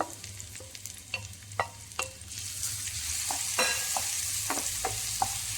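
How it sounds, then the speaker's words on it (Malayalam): Small chopped pieces of ripe plantain fry in ghee with a bubbling sizzle that swells over time. Sharp spatula strokes scrape and tap the pan at intervals, and no one talks. "അത് നമുക്ക് ഈ നെയ്യിലിട്ടൊന്ന് മൂപ്പിച്ചെടുക്കാം"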